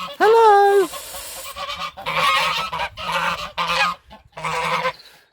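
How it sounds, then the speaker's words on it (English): Angry geese guarding their nest on a farm field honk loudly and close, a long harsh call followed by a series of repeated blaring honks in short bursts. "we have angry geese"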